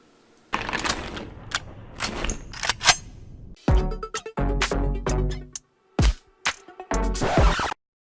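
A Maruzen Ingram M11 MAC-11 airsoft gun fires full-auto bursts, the first stuttering and spaced, the later ones dense rapid rattles, close and loud, with sharp gaps of silence between them.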